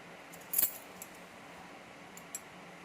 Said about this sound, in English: I have a set of space and depth keys here for Grainsboroughs.